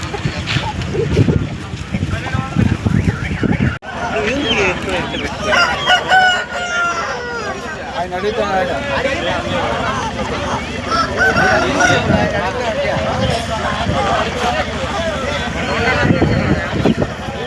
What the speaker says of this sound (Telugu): మీరు చూస్తున్న ఈ కాకిడాగ పుంజు